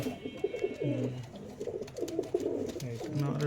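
A pair of pigeons coo at night in a home loft, their low repeated calls close by and layered over a steady background hum.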